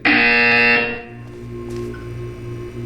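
A loud buzzer from the Portal 2 video game sounds steadily for about a second, then cuts off, leaving a quieter humming electronic background.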